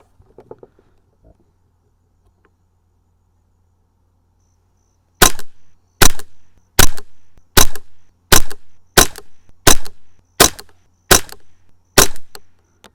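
Ten sharp gunshots ring out at a steady, even pace while a red dot sight is tested, each crack loud and clean against near silence, after a few faint handling sounds.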